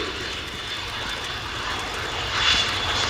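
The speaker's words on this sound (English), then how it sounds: "the two Sukhoi Su-22 M4K fitters of the Polish Air Force from the 40th Tactical Squadron at Świdwin" Sukhoi Su-22 M4K Fitter jets of the Polish Air Force's 40th Tactical Squadron from Świdwin, flying at an air display, give a steady distant engine roar that swells slightly near the end, with no one talking.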